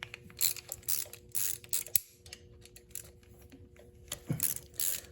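Ratchet turning 8 mm bolts on the oil filter cover of a Lifan KPR 200 motorcycle, quiet clicking bursts in short irregular runs with pauses, close up and faint.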